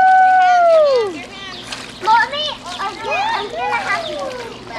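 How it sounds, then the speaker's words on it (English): Small child paddling in a swimming pool, with light splashes and sloshing water, mixed under cheerful adult talk and a voice nearby. "Oh, let's watch Cousin paddle."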